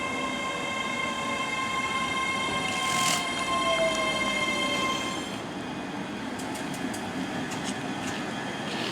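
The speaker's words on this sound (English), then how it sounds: "So we're catching the 1650 ScotRail service to Bishopbriggs." A ScotRail service running along the Croy line toward Bishopbriggs, heard from onboard as a steady rolling rumble with faint wheel squeal and a few light rail clicks near the end, with no talking.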